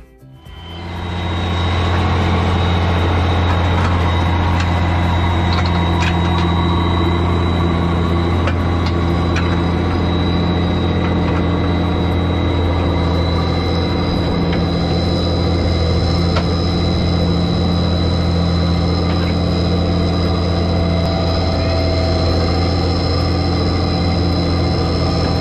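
An American tractor runs steadily in a field during a short demonstration round, its heavy, low engine drone holding constant and close for the whole stretch after a quick start, with no talking.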